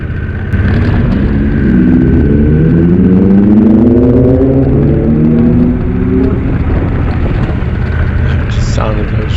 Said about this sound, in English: The sound of those road bikes just so flippin' cool, really nice.